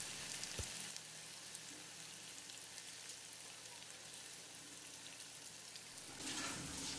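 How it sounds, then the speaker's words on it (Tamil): Chicken 65 pieces deep-frying in oil over moderate heat, a dense continuous hiss and crackle throughout that swells louder near the end, close and with no voices. "இப்போ இதை எண்ணெயில் ஃப்ரை பண்ணிக்கலாம்."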